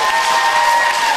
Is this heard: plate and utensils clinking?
no